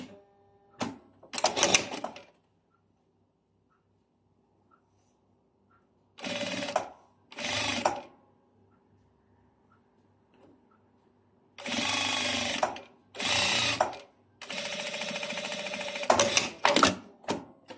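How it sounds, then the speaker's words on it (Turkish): A sewing machine topstitching over a fleece pocket, running in several short bursts of rapid mechanical stitching, close and loud, with quiet pauses between runs and a longer stretch at the end. "Ve üzerinden hemen bir gazi dikişi yapıyoruz."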